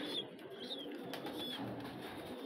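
Pigeons kept by a pigeon club, heard as soft cooing and faint high chirps at a distance over a low outdoor background, with no talk.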